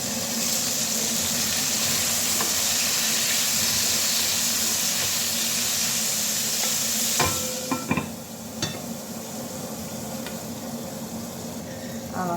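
Chopped onions fry in a hot pan with a steady, even sizzle and hiss, followed near the end by a few clinks and scrapes of stirring.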